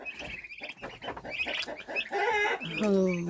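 Several young chickens cluck in short bursts at close range while pecking, with higher squawks and a drawn-out call near the end; soft scratching sounds run underneath.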